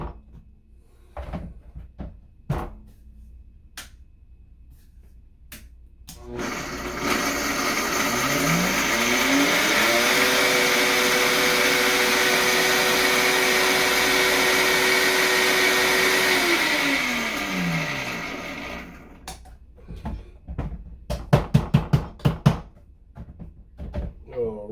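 A food processor grinds almonds and pecans for energy balls. The motor rises to a loud, steady whirring roar for about twelve seconds, then winds down, with clicks and handling noises before and after.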